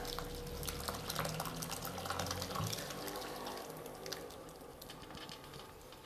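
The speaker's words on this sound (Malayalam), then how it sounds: "ഇതിലേക്ക് നമുക്കിനി പാല് ഒഴിച്ചു കൊടുക്കാം." Milk poured onto a cotton cloth to drain while making rasmalai, a steady soft watery splash and patter running throughout at close range, with no talking.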